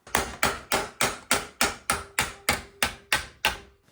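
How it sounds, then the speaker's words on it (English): A hammer and dolly shaping a sheet metal flange on a Chevy G20 van: eleven sharp, evenly spaced metallic strikes, loud and close, with a brief ring after each blow. "so I had to do the last bit with a hammer and dolly."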